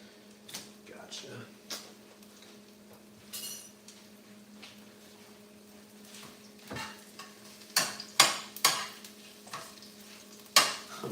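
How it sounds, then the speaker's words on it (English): Mexican food sizzles in a pan on a stove under a low, steady frying hiss, broken by sharp utensil clanks and stirring scrapes that grow louder toward the end. A voice is heard now and then. "Maybe I'll step away from the stove a little bit while it's like actively sizzling."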